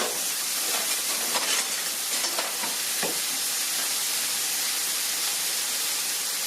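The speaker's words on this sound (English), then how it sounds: "Oh, listen to that sizzle." Chicken sizzles loudly in a hot pan with spices, onions and garlic, a dense, steady close-up hiss of frying with a few scraping stirs early on.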